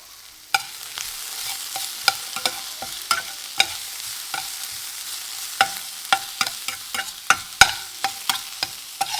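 Food being sautéed in a pan with a spatula or spoon, giving a run of sharp stirring scrapes and clacks over a soft, steady sizzle, close and fairly loud, with no talking.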